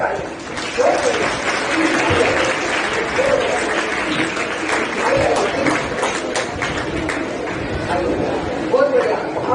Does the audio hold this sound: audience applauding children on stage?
yes